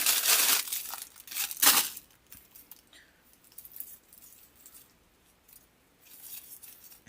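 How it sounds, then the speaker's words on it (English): Scissors cut a paper piece out for a wooden door hanger craft, with loud crisp snips and rustling at first, then quieter intermittent cutting and paper handling. "so we're going to cut that out"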